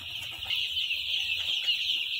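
Five-day-old broiler chickens in a poultry house, a dense chorus of high chirping and clucking peeps going on continuously at moderate distance.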